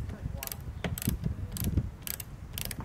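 A hex bit loosens bolts on a stainless steel side table for a Weber Q grill, giving a few short ratcheting, clicking bursts with soft metallic rattles between them, close and fairly quiet.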